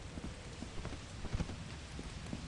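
Rain falling in a video game, a steady hiss with scattered heavier drops or soft thuds poking through at irregular moments, and no one talking.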